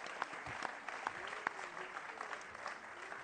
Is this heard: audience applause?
yes